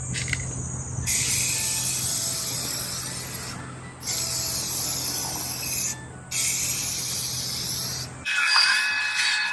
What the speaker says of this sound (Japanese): グリルはラバースプレーでマットブラックにします。